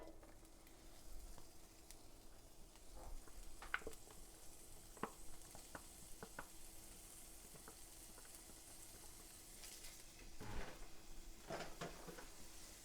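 Fat rendering off cubed meat frying in a pan for Thanksgiving stuffing, a steady low sizzle throughout with scattered clicks and light stirring taps.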